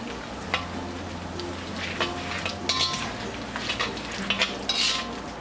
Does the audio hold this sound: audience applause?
no